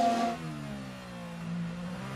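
A Formula 1 car engine during 2017 Chinese Grand Prix qualifying, heard with a fault, drones in a steady tone that slowly falls then rises a little, fairly loud and alone without any voices.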